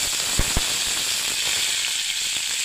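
Curry leaves hit hot oil after dried chillies for semolina upma with beans, producing a bright, continuous sizzle with two quick crackling pops at the start.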